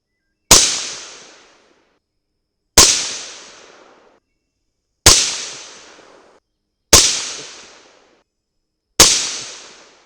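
Five loud, sharp rifle shots from a 300 Blackout firing 115-grain Lehigh Defense Controlled Chaos rounds, evenly spaced about two seconds apart, each with a decaying echo tail before silence.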